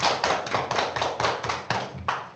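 A classroom gives a student a short round of applause, a rapid, even patter of several hands clapping close by for a couple of seconds.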